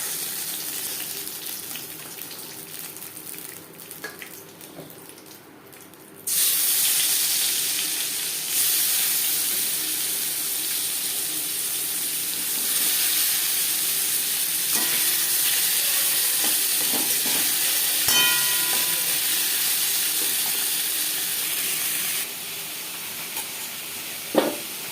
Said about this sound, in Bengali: প্রথম ব্যাচে মাছ ভাজা হয়ে গেছে, একটা পাত্রে উঠিয়ে দেবো।